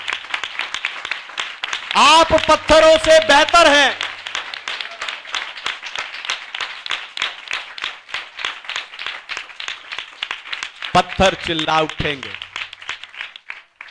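Congregation clapping in praise during a Hindi church sermon, a continuous crowd patter running beneath a preacher's voice, with two bursts of louder speech cutting through the steady applause.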